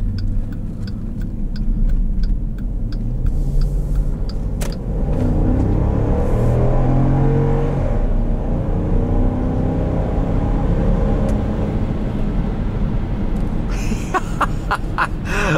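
A 5.7-litre HEMI V8 in a 2012 Jeep Grand Cherokee Limited revs with a loud, steady, deep rumble that holds for the full stretch, with no talking over it.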